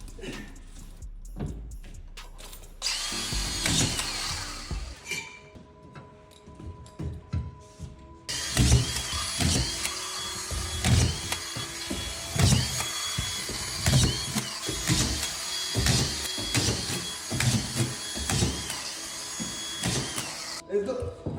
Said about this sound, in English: just screw the plasterboard and you're all good